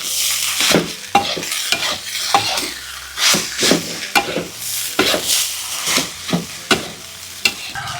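Fried rice with egg and fish sauce tossed and mixed in a hot pan: rhythmic, close scraping and clattering strokes of a spatula over a constant sizzle, loud and with no talking.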